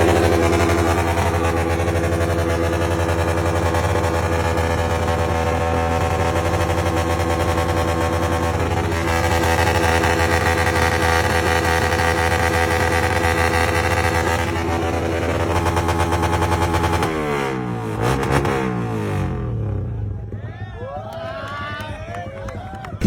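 A small motorcycle fitted with a loud aftermarket exhaust pipe, revving hard and droning at close range for a long stretch before cutting out, with people talking and reacting nearby.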